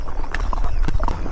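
A ridden horse steps forward in Davanagere, Karnataka, its hooves giving a few close, distinct clip-clop footfalls in quick succession.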